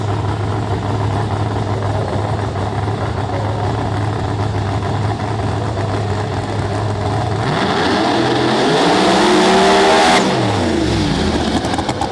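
An IHRA Pro Mod drag racing car idles loudly on a solo qualifying pass, then revs hard near the end with sweeping rises and falls in engine pitch.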